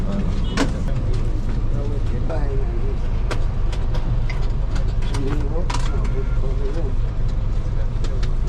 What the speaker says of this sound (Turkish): Otobüse biniyoruz.